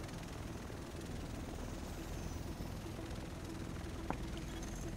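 A helicopter in the video game The Division drones as a low, steady rotor rumble at moderate distance, faint and continuous, with a brief sharp tone near the end and no talk.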